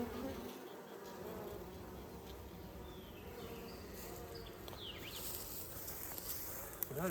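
Honey bees in an open hive hum in a dense, steady buzz close by, with individual bees droning past over the constant swarm sound.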